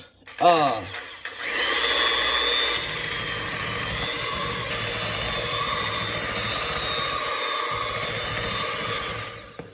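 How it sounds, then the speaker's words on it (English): An electric mixer runs steadily, creaming butter for a big red pound cake, a continuous motor whir that holds even for several seconds after starting. "we're going to mix this butter on up here"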